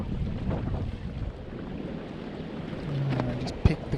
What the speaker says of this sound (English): These winds are bouncing around,